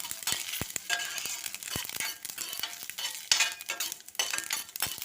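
Chana dal, cumin and dried red chilies fry in oil with a soft, crackling sizzle, scraping stirring and occasional light clicks, fairly faint and with no speech.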